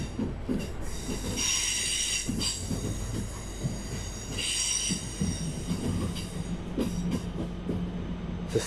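A West Midlands Railway Class 323 electric train rolls along the rails, heard from on board, with loud steady running noise, rhythmic wheel clatter and recurring high-pitched wheel squeal throughout.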